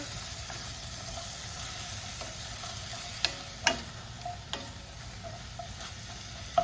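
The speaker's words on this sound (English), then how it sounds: "Give another little stir." Ground meat sizzling in a pan while being stirred, a constant low frying hiss broken by several light scraping clicks of the utensil, close by with no talk.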